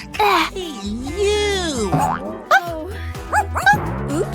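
A young girl mimics a dog with playful yips and barks in a cartoonish voice, short sharp bursts after a longer whining wail, with a springy boing-like sound effect.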